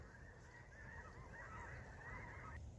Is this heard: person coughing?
no